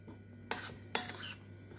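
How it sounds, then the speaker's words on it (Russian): A metal spoon clinks twice against a dish while stirring a soy sauce marinade for pork knuckle, two sharp, close taps about half a second apart over a quiet room. "Тщательно перемешиваем наш соус."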